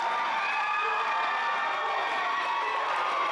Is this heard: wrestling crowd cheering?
yes